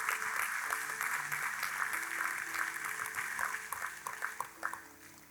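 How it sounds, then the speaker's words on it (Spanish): A church congregation at Iglesia Nueva Jerusalén claps steadily throughout, a dense, sustained roar of hands with a few voices mixed in, swelling slightly toward the end. "darle fuerte el aplauso al Señor"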